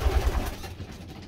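Pigeons in a loft coo in low, soft, repeated throaty pulses close by, fading into quieter rustling background with no talking.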